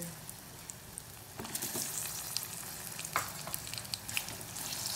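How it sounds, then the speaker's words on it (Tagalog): Steady sizzling and crackling of bananas frying in sugar in a pan over low heat, with occasional stirring clatters and pops, no voices. "maghulog ako ng konting saging. Prito, sabay, luto na rin sa asukal"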